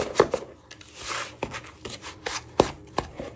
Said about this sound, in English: using a wooden spoon, but you could also use a lecky whisk if you like to do it that way. You just give it a good beat